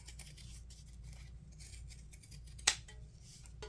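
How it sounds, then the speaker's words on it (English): Pinking shears snip through fabric while rounding the corners of a flap on a sewn messenger bag, giving one sharp, close cut that stands out against a steady low room hum. "Take our pinking shears and round our corners"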